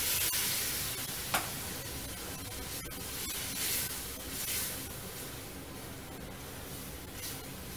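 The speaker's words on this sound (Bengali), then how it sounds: "গরম জল দেব" Hot water poured into sizzling fish curry masala in a pan, giving a steady, loud hiss and spray that rises briefly, then settles into continuous frying sizzle.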